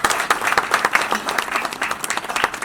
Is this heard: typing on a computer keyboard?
no